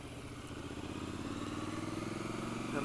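A Triumph Scrambler motorcycle engine lugging along in third gear at low speed gives a steady, close, pulsing thrum with a rapid rhythmic beat and wind noise. It stays constant, with no talking.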